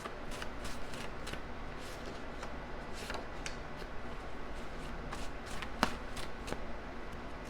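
Tarot cards being shuffled close up, a run of quick papery riffles and soft taps repeating in an uneven rhythm, with no talking over them.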